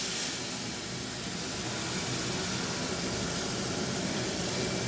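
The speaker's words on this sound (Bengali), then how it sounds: "এই যে উচ্ছেটা ভেজে নেবো শুক্তোর ডালের জন্য" Bitter gourd frying in a hot kadai, a steady, even sizzling hiss that continues without a break and with no voices.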